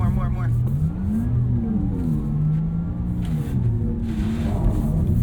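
A 2023 Porsche Taycan Turbo accelerating on a track, its electric motor giving a smooth rising and falling whine over steady road rumble inside the cabin, heard under continuous talk.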